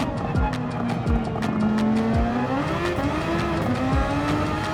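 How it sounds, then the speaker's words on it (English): A formula race car in Gran Turismo 7 spins its wheels in second gear, giving a loud, steady engine howl whose pitch climbs and wavers, with faint tire scrubbing beneath it. "A little bit of second gear wheel spin."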